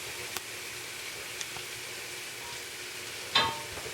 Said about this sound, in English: our frying pan's heated up, we're going to add in these onions